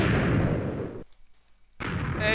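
Cannons firing in Minecraft, heard as two loud booming blasts split by a short near-silent gap, with no talk over them.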